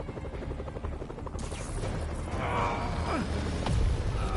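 A helicopter seized in a Spider-Man game drones with a steady rotor chop throughout, loud and continuous, mixed with explosions and action noise in the game.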